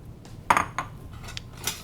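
Ceramic bowl and metal cutlery clattering on a kitchen counter as a chef grabs a bowl and ladle to finish a fall soup; a few sharp close clinks, strongest near the middle, then lighter taps.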